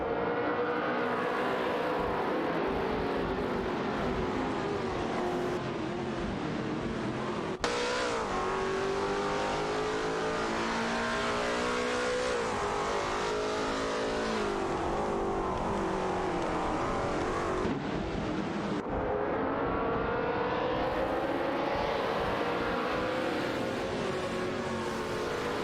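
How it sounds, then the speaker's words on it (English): Race car engines in an AI racing video game roar continuously, several cars revving and shifting gears at high pitch, loud and steady with no talking. "the sound of engines revving"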